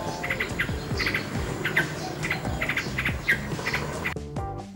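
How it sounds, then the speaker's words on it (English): A nightingale sings in repeated short bursts of bright chirps and trills, moderately loud and steady, with a continuous musical background running underneath. "Nightingale."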